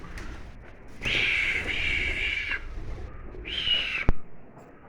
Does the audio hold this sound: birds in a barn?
yes